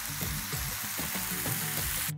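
Beef stew stock sizzling and frying hard in a hot pan, a steady close crackle with bubbling pops throughout that cuts off abruptly at the end.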